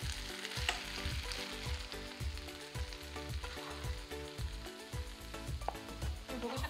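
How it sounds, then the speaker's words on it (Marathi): Fried manchurian balls are tossed and mixed in a pan with a loud, busy sizzle and rhythmic scraping and clanking strokes repeating through the stretch. "आता आपण तळून घेतलेलं मंचुरियन बॉल त्यात ॲड करून घेऊ, म्हणजे छान मिक्स करून घेऊ"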